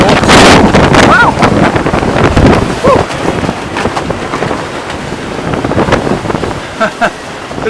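Strong wind gust roaring over a 35-foot Wharram catamaran with centerboard, sailing to windward under full sail, with water rushing past the hulls; loud, continuous buffeting noise throughout, briefly peaking at the start.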